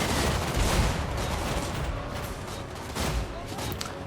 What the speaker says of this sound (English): Firing down the hillside.